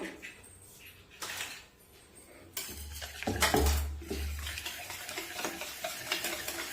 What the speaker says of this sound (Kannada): ಇದನ್ನು ಹಾಕಿ ಚೆನ್ನಾಗಿ ಬೀಟ್ ಮಾಡಬೇಕು.